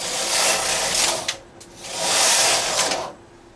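A knitting machine carriage sweeps across the needle bed knitting two rows of zig zag fabric, two loud sliding whooshes with a brief pause between them.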